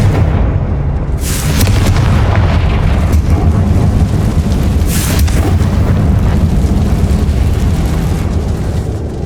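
Confringo blasting spell explosion in the Hogwarts Legacy video game: a loud, sustained booming blast with a dense low rumble, rising after a brief quiet start and rolling on for several seconds.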